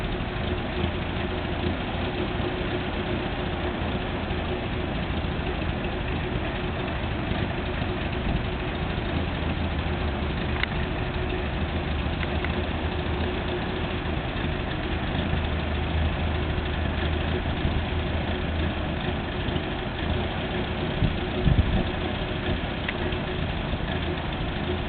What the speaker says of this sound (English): there's a little overview and run around and drive of my 1960 Citroen ID19